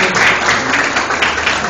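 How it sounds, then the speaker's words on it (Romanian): An audience at an exhibition opening in a municipal theatre foyer claps in a short, dense burst, fairly close and loud, with a voice speaking over it. "Vă mulțumesc și să aplaudăm"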